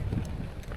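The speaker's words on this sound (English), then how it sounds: "let's get out of this godforsaken wind" Gusty hiking-trail wind buffets the microphone in a steady low rumble, loud and close throughout the brief moment with no talk.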